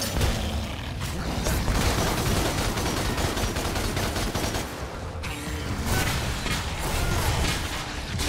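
Dense, continuous gunfire in a video game, rapid overlapping shots and mechanical clatter filling the mix loudly without pause, with no audible talk.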